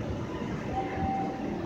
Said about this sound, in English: the next Red Line train to Ashland is now approaching